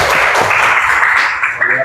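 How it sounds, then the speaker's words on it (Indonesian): Students clap together in a high school classroom, a brief, steady patter of many hands that fades toward the end, fairly loud and close, with little talk over it. "Tepuk tangan dulu dong."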